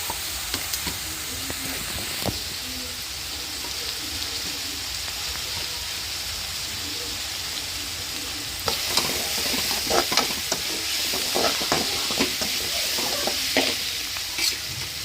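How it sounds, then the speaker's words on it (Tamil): Onions and green chillies fry in a pan for spicy vegetable Maggi, a continuous rain-like sizzle that turns busier halfway through, with frequent sharp scrapes and clacks of a stirring spatula up close and no speech. "நல்லா வதங்கட்டும். பாருங்க, நல்லா வெங்காயம் வதங்கிடுச்சு."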